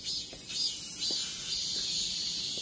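Cicadas drone in a park in a continuous high-pitched buzz that swells slightly, fairly close and steady, with no talk.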